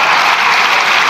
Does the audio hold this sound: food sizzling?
no